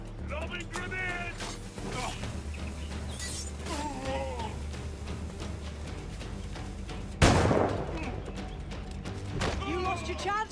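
A grenade blast and gunfire in Assassin's Creed IV: Black Flag. The heavy explosion hits hard about two-thirds through, amid steady game noise, scattered shots and bursts of game character voices.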